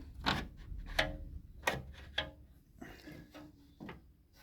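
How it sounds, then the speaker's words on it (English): A door on a Rover P4 110 classic car is handled and opened, with a series of sharp metallic clicks and knocks spaced about half a second apart, fairly close and moderately loud. "let me open the door, I need 2 hands"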